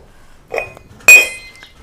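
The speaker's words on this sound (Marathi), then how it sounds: "तुला कोणचं ग्लास उचलायचंय ते ग्लास उचल आणि 4 ग्लास करून दाखव मला" Drinking glasses being lifted and set back down during a glass-counting puzzle at home, giving two short, bright clinks close by, the second sharper and ringing, with quiet between them.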